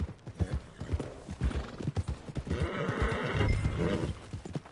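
Steady clip-clop of horse hooves walking at an even pace in the video game Red Dead Redemption 2, close by, with a horse whinnying partway through over a low ambient background.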